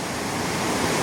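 The swollen Budhi Gandaki river, risen after heavy overnight rain, rushes past as a steady, dense roar of churning water, close and continuous with no voices.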